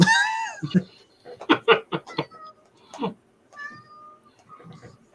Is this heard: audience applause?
no